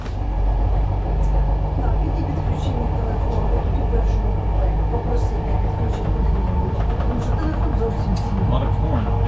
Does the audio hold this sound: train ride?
yes